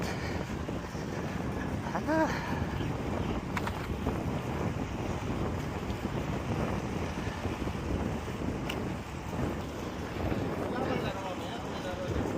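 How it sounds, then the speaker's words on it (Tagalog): Strong wind buffeting the microphone while moving, a constant roaring rush with faint voices underneath. "Ang sarap ng hangin."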